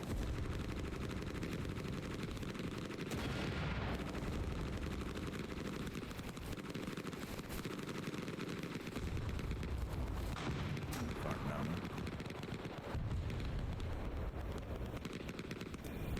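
Mortar rounds going off in the Vietnam-era video game Hell Let Loose: Vietnam, heavy booms and rumbling blasts mixed with crackling gunfire in a continuous loud battle din.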